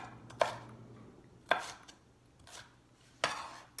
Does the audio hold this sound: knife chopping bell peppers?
yes